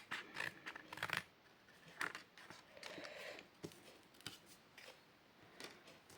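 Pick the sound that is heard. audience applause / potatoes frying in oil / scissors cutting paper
scissors cutting paper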